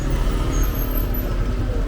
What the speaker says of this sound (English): Oh, there is a car also.